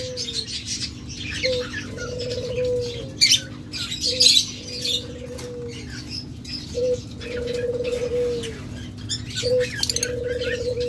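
A pair of lutino Fischer's lovebirds gives short shrill chirps and squawks in bursts, heard fairly close over a steady background hum and light patter, with no voices.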